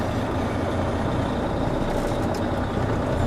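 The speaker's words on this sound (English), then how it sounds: "I will move forward a couple of feet and apply my service brakes" A tractor truck engine rumbles steadily as the rig creeps forward, with faint hissy bursts near the end that could be the service brakes being applied; no one talks.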